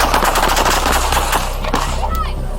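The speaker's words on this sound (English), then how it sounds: "Shots fired, officer needs help." Gunfire during a police shootout after a head-on crash with a BMW suspect, loud and close: a rapid volley of shots in quick succession, then a few scattered cracks as it tapers off, with shouting voices mixed in.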